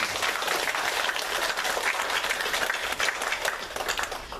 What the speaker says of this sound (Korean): 우리 격려의 박수 한번 하도록 하겠습니다